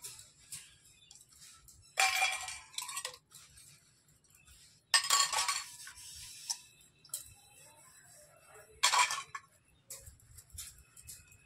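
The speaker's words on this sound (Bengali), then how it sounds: "বাসনগুলো ধুয়ে নিচ্ছি।" Dishes and utensils are washed by hand in bursts of clinking and clattering with splashing water between quieter pauses, close by, with no talking.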